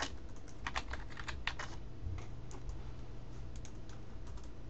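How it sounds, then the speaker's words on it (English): Someone types on a computer keyboard in quick, light bursts of clicks, close and alone, entering a name into an AutoCAD title block. "type in your name."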